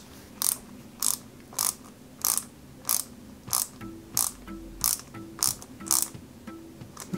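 Screws being driven into a 1:8 scale Peugeot 205 GTI 1.9 model car kit, about a dozen short, regular whirring bursts roughly every half second, close up with no talking.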